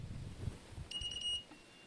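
A telescope's motorized tracking mount gives a brief electronic beep on switch-on: a short run of bright pulsed tones, then one soft tone. It sounds faint against a steady outdoor wind rumble.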